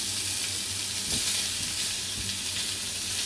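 Sausages fry in a pan, browning as they cook, giving a dense continuous sizzle and crackle that stays loud and even throughout with occasional small pops.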